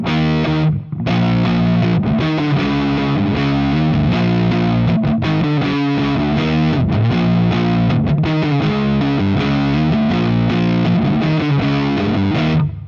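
A distorted electric guitar on the middle pickup position chugs out steady, dense chords, loud and continuous for about thirteen seconds with a few brief gaps.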